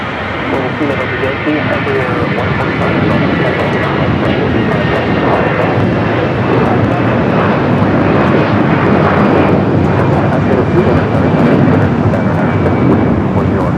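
Airplane engine roar at Los Angeles LAX airport, a loud, steady broadband rumble sustained throughout, close and continuous, with a voice faintly present beneath it.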